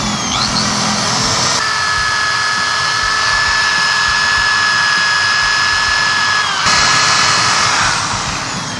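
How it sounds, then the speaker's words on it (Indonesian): A power drill bores into a cast alloy HSR wheel, whining at a steady high pitch with a grinding edge, close and loud, starting and stopping abruptly with a brief surge near the end. "Gua akan langsung ngebor nih pertama kali. Gua coba bor nih."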